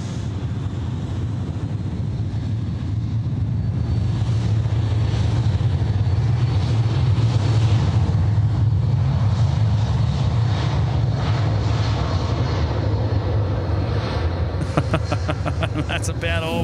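Airliner taking off from runway 16 right at Sydney Airport, heard as a steady, fairly distant jet roar that builds and holds, with people talking over it.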